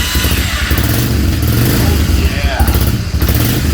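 An old Honda ATV engine runs loudly up close with a rough, throbbing putter and clattering, holding a steady idle while a voice briefly speaks over it.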